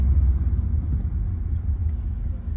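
An Audi A3 Sportback 1.5 35 TFSI in sport mode accelerates on a road test, its engine a steady, loud low rumble heard from inside the car with no talk over it.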